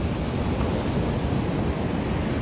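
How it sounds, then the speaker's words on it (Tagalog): Sea waves wash steadily onto the shore at Puerto de San Juan, a continuous broadband roar of surf with some wind noise, loud and unbroken throughout, with no voices. "Maganda naman maglakad-lakad po dito mga bro kasi dahil tabi nga ng dagat"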